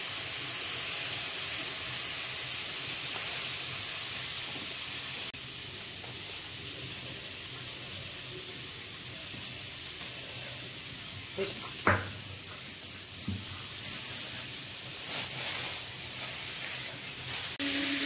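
Carrots frying in a kadai for Bengali fried rice give off a steady, broadband hiss of sizzling oil, with a couple of brief clinks partway through.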